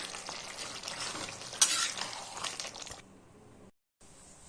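Broccoli sabzi with added vegetable masala cooks in a pan, a soft continuous frying hiss with light stirring, fading to near silence toward the end.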